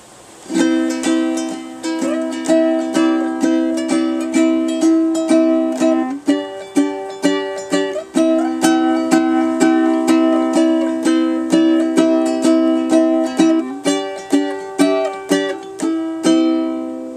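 A ukulele plays a picked melody over steady rhythmic strumming, bright and close, continuing evenly throughout without any voices.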